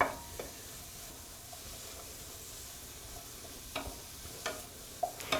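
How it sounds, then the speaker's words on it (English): Onions and celery sautéing in a pan over medium heat, a soft, faint, continuous sizzle with a few light clicks of a spoon against the pan, heard close up with no one talking. "We all know how to saute onions and celery."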